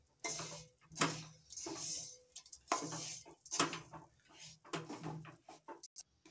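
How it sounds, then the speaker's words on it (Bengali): Sugar melts into caramel in a pan while a utensil stirs it, producing repeated scraping and clinking strokes in an uneven rhythm, close and moderately loud, with quiet gaps between the strokes. "নাড়াচাড়া করে একটু গলিয়ে নিচ্ছি চিনিগুলো"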